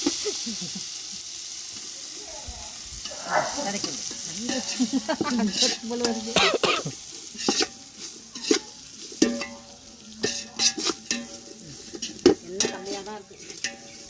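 Turmeric, chili and sambar powder are stirred into a sizzling tempering in a village kitchen, with a soft frying hiss beneath repeated scraping and metallic clinks of a spoon against the pan, close and busy.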